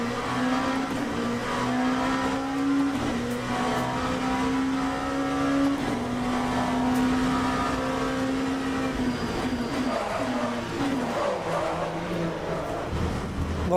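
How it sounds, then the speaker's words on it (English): Race car in a VR sim racing game with brakes locking up: a continuous engine drone with a steady tone bending down as the car slows, tire scrub throughout, close and fairly loud. "You can hear the brakes locking up"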